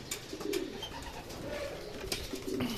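Racing pigeons coo steadily at their loft after a derby training flight, soft repeated throaty coos overlapping against a busy outdoor background.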